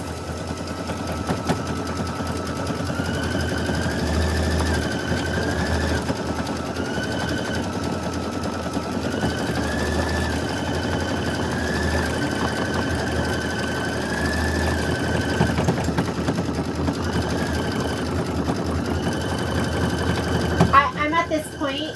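A 10-needle multi-needle embroidery machine stitches continuously with a steady rapid mechanical hum and a rising and falling whine, loud and close throughout, with a few brief knocks near the end.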